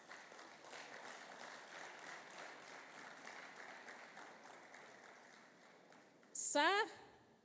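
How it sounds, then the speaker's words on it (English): Audience applause at a public relations institute chapter anniversary conference, a steady wash of many hands clapping that holds for several seconds before a sharp, brief electronic squeal near the end. "He deserves a warmer hand of applause."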